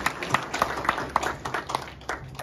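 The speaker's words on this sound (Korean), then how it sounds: "큰 박수로 주시기 바랍니다." Scattered audience clapping at a Yangpyeong county press conference marking the third anniversary of the 7th elected administration, a handful of hands tapping unevenly and fairly quietly in a room, with no talk.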